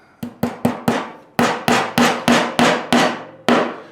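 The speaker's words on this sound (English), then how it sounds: "So you just need a hammer" Hammer tapping plastic cable clips onto a sewing machine stand, ten sharp, close knocks with short ringing decay, four quick taps, a brief pause, then six more evenly spaced strikes.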